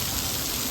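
Drizzling rain in Morbi during the hot season, a steady soft hiss of drops falling on surfaces, continuous and fairly faint, with no voices.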